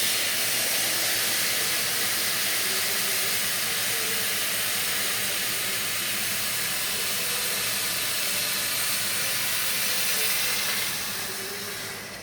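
Vegetable broth hitting rice in a hot sauté pan, a loud continuous steamy hiss and sizzle that holds steady for several seconds before easing off slightly at the end, with no voices.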